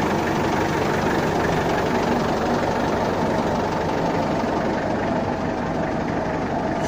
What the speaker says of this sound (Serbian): Ajmo da napravimo radnju da vozimo traktor.